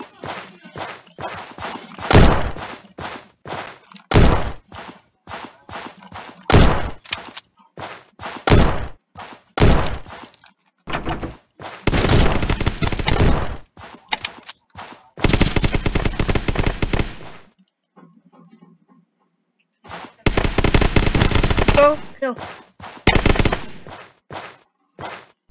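Deagle pistol fire in the online game Zombs Royale, loud separate shots spaced a second or two apart, with a few longer noisy bursts of rapid fire between them.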